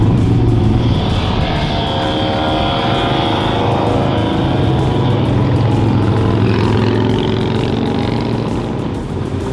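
Motorcycles roll past on a parade lap at the Mid-Ohio racetrack, a dense, loud, continuous engine roar that swells and drones throughout with no pauses.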